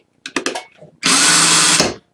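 A Mastercraft 20V cordless drill whirs in second speed for about a second after brief voices, a loud steady motor whine that stops abruptly.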